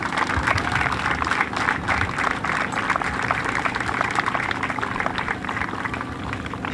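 A crowd at a youth pony league sports event claps for the organizers, a dense, steady wash of many hands, loud and sustained without breaks.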